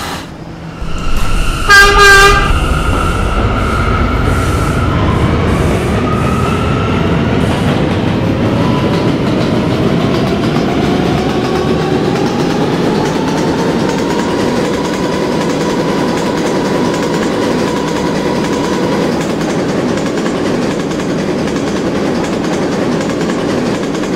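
A K line subway train runs between stations, opening with short horn-like tones, then a loud continuous rumble under a motor whine that glides up and down in pitch.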